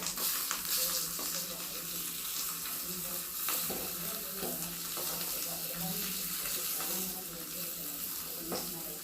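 Vegetables sizzle steadily in a hot pan while being turned over, with scraping stir sounds and the clatter of a utensil close by, a voice speaking softly underneath.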